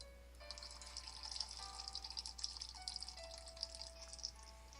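Watering plants in the game Prom Dreams, a soft, faint trickle of pouring water with light splashing and tinkling drips, steady for a few seconds with no talk.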